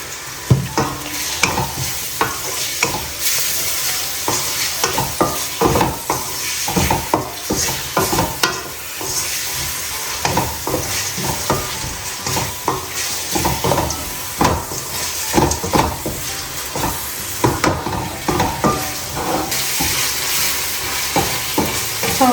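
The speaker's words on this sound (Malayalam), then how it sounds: "സവാള നന്നായി വാടട്ടെ" Onions sauté with salt in a hot pan for a pork roast, giving a steady dense sizzle broken by repeated scraping stirs close by, with no talking.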